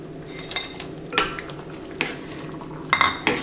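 Fried raw banana pieces being tipped into a pan of curry and stirred, giving several sharp metal spoon scrapes and clatters against the pan over a low steady simmer, fairly close, with no talking.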